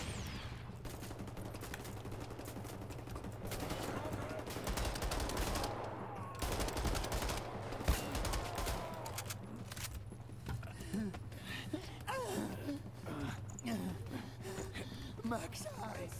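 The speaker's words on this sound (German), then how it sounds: "Krasse Schüsse abgekriegt." Video game gunfire from Wolfenstein: The New Order, rapid automatic bursts and scattered shots, faint and low in level, under a constant hum with someone talking over it.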